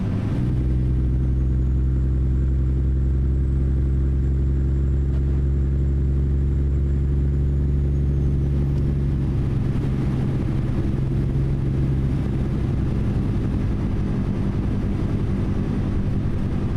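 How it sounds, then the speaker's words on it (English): A Cummins 870 engine, the 690-horsepower version, in a Kenworth W900 in American Truck Simulator, driven through a frosty winter blizzard in BC, rumbles loud and low and steady, with a faint whine above and no talk. "So this engine is the 690 horsepower version of the 870 that comes from ZeeMod"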